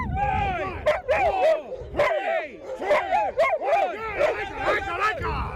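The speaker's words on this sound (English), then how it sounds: "They're Alaskan Malamutes, which is the largest of the Nordic breeds." Alaskan Malamute sled dogs, a large Nordic freighting breed, bark and yip repeatedly in an excited chorus on a football pitch, with voices murmuring in the background.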